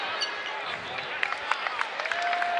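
Basketball game crowd at historic Freedom Hall in Louisville, Bellarmine versus Jacksonville, a broad murmuring arena roar with scattered claps and ball or sneaker thumps, a commentator talking over it.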